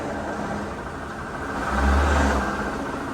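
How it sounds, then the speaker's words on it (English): A Mercedes SL500 with the hood open, its ABC suspension pump running noisily under the engine's steady whir, a low hum that swells briefly midway before settling back, heard up close without talk. "Now take a listen, guys. Y'all hear that? So that's the ABC pump."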